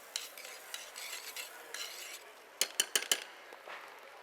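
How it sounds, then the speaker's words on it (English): A spoon stirs barley through softened onion and garlic in a pan, soft scraping and light sizzle followed by a quick cluster of four sharp metallic clinks, then quieter stirring. "I'm going to mix it around."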